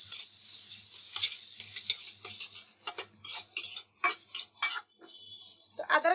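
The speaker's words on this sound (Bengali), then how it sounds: "এই আদা রসুন বাটাটা দিয়ে একটু নেড়ে চেড়ে নেব" Ginger-garlic paste being stirred in a pan with a utensil, sizzling softly under repeated scraping and clinking strokes, with a brief pause near the end before stirring resumes.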